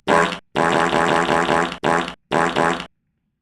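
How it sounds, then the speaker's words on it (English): Cartoonish fart sound effects play in quick succession, five loud buzzy bursts of varying length with brief gaps, ending in silence. "Farts all day."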